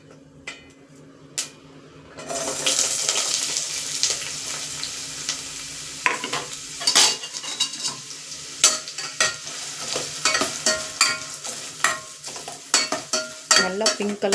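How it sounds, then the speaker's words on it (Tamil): Sliced onions drop into hot oil and fry with a steady, close sizzle, while a spoon scrapes and stirs against the pan in irregular clinks over the hiss. "நல்லா பிங்க் கலரில் வர மாதிரி நாங்கள் வறுத்துக்கலாம்"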